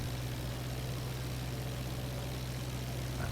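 Aircraft engine in the IL-2 flight simulator drones at steady power, a continuous low hum with constant vibration and no pauses.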